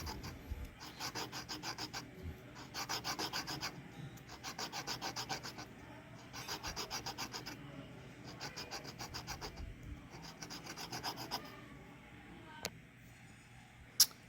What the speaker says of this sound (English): As I sand, you'll start to see the tape residue come off.